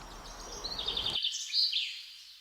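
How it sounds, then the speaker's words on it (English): Birds chirp and twitter in high, repeated calls, moderately close, in woodland on the shores of Loch Leven, over a soft rushing background that drops away partway through. "You can hear the birds."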